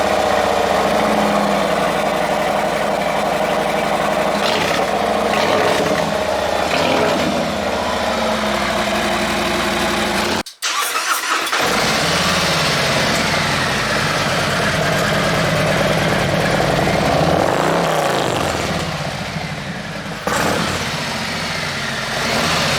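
Motorcycle engine running at a steady idle after its K&N air filter has been cleaned, a close, even mid-low hum with a brief cutout around the midpoint before it picks back up.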